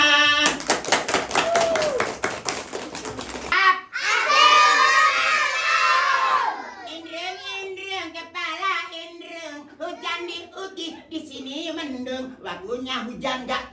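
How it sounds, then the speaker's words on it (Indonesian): Guests at a child's third birthday party clap in a short, loud burst, followed by children shouting and excited voices chattering over the celebration. "Tepuk tangan."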